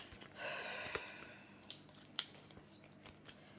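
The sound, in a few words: scissors cutting paper budget envelopes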